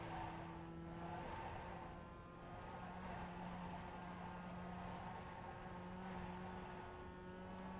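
NC Mazda Miata race car held flat out in 4th gear through a fast uphill section at Virginia International Raceway, a steady loud engine drone with constant pitch from onboard, no talk.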